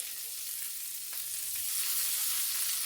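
A flour-thickened breakfast gravy cooking in a pan while it is stirred, a steady soft sizzle and bubbling at close range with a couple of faint scrapes and no voices.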